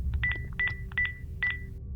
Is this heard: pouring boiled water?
no